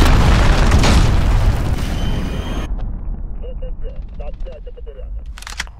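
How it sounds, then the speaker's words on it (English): An enemy cruise missile explodes in Call of Duty Modern Warfare, a loud close blast with a heavy rumbling tail that cuts off sharply. Quieter battle noise and radio voices follow. "Enemy cruise missile, take cover!"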